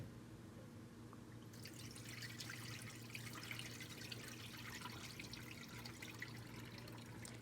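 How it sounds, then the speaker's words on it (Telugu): Rice being washed by hand in a pot of water for chicken dum biryani, a soft steady wash of swishing water and small drips, close and quiet, continuing without pause. "మంచిగా నేను 2 టైమ్స్ కడిగేసి, ఇది నా సెకండ్ టైం కడుగుతున్నా."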